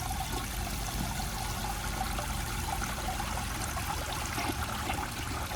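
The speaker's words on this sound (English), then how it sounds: "So here's another flush." A 1977 Universal-Rundle Citation toilet flushing, a steady rushing and trickling of water heard up close for several seconds.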